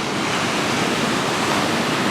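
Ocean surf washing onto a beach near La Push on the Olympic Peninsula, a broad continuous roar of waves, steady and fairly loud with no voices.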